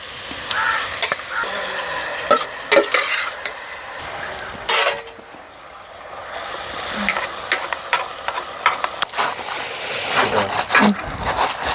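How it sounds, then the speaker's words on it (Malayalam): Chopped, washed pork pieces go into a hot pan and fry for a pork and koorka dish in a village kitchen, with sizzling, scraping and stirring clatter while people talk over it. "ഇതിലേക്ക് നമ്മൾ നുറുക്കി കഴുകി വെച്ചിരിക്കുന്ന പോർക്ക് കഷ്ണങ്ങൾ ഇട്ട് കൊടുക്കുകയാണ്"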